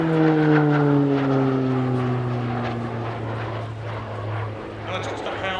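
A Pilatus PC-9M Hudournik turboprop of the Slovenian Armed Forces performs an air show flying display at RIAT, its propeller drone loud and steady as it passes, the pitch sliding gradually lower.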